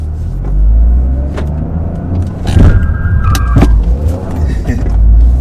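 A Toyota GR Corolla revving against the pulled handbrake during a J-turn, a deep engine rumble swelling and easing as the car lurches, close and loud inside the cabin with someone talking over it.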